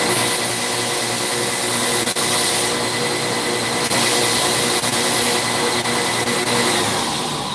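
A belt grinder fitted with a Scotch-Brite belt runs steadily throughout, a continuous close whir in a forge shop with no talking.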